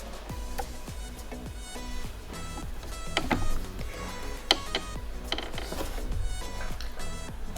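A domestic sewing machine stitching in straight stitch makes a quiet, steady mechanical whir with rapid rhythmic ticking and clicking of its moving parts throughout.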